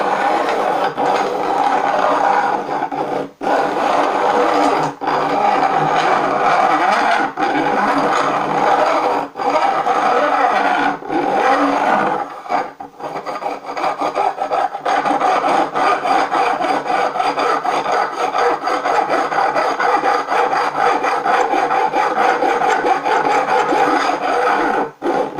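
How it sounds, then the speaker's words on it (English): Steady, rough rasping of a file across a wooden fretboard, repeated strokes with brief pauses, close and loud, the scraping turning from a metallic sound to a smoother one. "You can hear it changing from metal to a smoother filing noise."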